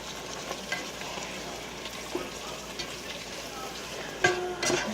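Picadillo frying in a pan as it is stirred, a low steady sizzle with soft scraping strokes, a couple of sharper clatters near the end, at moderate level with no talk.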